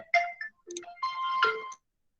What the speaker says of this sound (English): I got phone call.